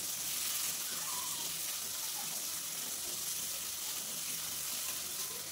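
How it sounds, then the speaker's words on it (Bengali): Onion, about a spoonful of garlic paste, slit green chilies and tomato fry together in a pan for an egg curry. A soft, even sizzle hisses continuously at low volume with no distinct stirring strokes. "প্রথমে আমি পেঁয়াজটাকে ভালো করে একটু ভেজে নেব, তারপর একটু রসুন বাটা দিয়ে দিচ্ছি 1 চামচের মতো"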